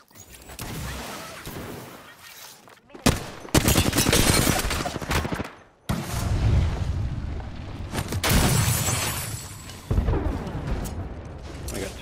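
Gunfire in a first-person shooter video game comes in several loud bursts of rapid shots and booms, separated by short pauses, with faint voices at times.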